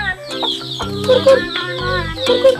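Village chickens cluck close by in short repeated bursts, with overlapping squawks and soft clucking sounds.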